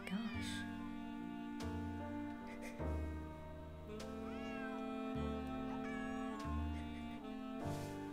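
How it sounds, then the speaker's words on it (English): Cat meowing in the Nancy Drew: Secret of the Old Clock video game, several clear, close meows rising and falling over a steady background of game music. "Otherwise, he'll just keep meowing."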